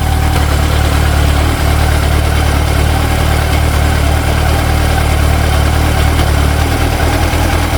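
A motorcycle engine idles steadily and loudly during adjustment of Mikuni BDST 38 carburetors, a constant, dense rumble that holds even throughout with no talk over it.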